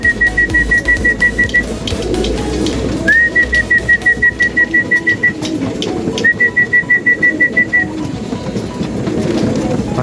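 Newly settled pigeons sit outside a loft during trap training. Repeated short, evenly spaced whistling calls come in three runs over a steady outdoor background hum.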